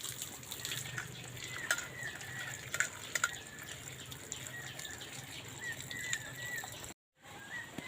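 Tap water runs steadily over banana flower being washed, a continuous close splashing rush with a few brief clinks, cutting out near the end.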